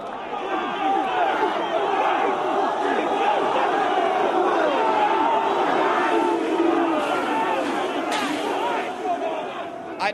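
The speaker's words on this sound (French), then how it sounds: "Le résultat est une foule incontrôlable." Large, uncontrollable crowd of English Defence League supporters at a street rally, a dense, loud roar of shouting and chanting voices that holds steady throughout.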